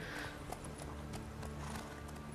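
Horse hooves clip-clop in The Witcher 3 as a mounted ride carries on, a steady rhythmic clopping at moderate distance over a low rumbling game ambience, with no speech.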